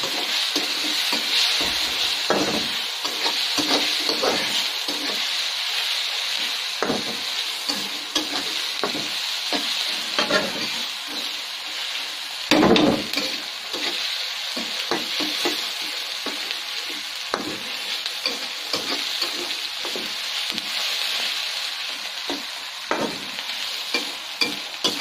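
Food fries in a home kitchen pan, a steady loud sizzle broken by repeated scraping stirs of a utensil, with no speech.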